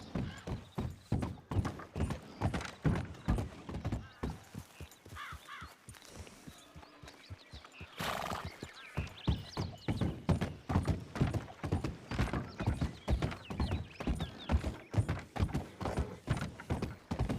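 A horse's hooves clip-clop in a steady, even rhythm at moderate distance, falling briefly quieter and sparser midway before a sharp burst of noise, then resuming the same trotting beat.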